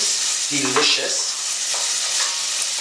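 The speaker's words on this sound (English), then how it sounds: "Mom, start stirring all that up" Cubed pancetta fries in a pot with a loud, bright sizzle while a spoon stirs it, adding brief scraping sounds near the start.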